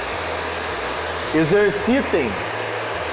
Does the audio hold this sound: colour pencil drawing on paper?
no